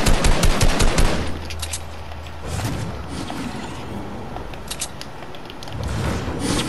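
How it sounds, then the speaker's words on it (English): Rapid video game gunfire crackles in quick bursts at the start, then thins to scattered shots and mechanical clicks before picking up again at the end. "I hear shooting."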